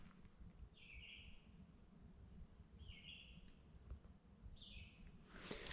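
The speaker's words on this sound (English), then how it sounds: "You can hear the birds off in the background too" Birds call out in a forest along a trail, three short chirping bursts spaced a couple of seconds apart, faint and distant over a steady rustling background, with a louder rustle at the end.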